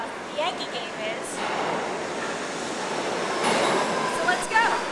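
Steady rumble and rattling hiss of a D subway train in New York, heading to the Bronx for a Yankees game, fill the car throughout, with people talking over the continuous roar.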